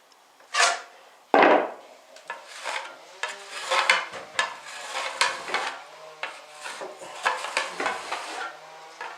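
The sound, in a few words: corner trowel smoothing plaster into corner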